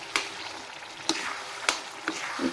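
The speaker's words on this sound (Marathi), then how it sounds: "या प्रकारे मी ही भाजी घालून घेणार आहे तुम्ही बघू शकता आणि छान अशी आपल्याला मिक्स करून घ्यायची आहे" Vegetables for pav bhaji being stirred in a hot pan, with a steady sizzle broken by four sharp spatula scrapes and knocks spaced about half a second apart, close and moderately loud.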